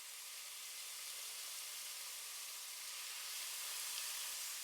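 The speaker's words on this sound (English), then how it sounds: "Add the marinated beef cubes to the oil one by one and allow them to sizzle in their" Steady, dense sizzling of marinated beef cubes frying in hot oil, a continuous hiss at even loudness with no voices.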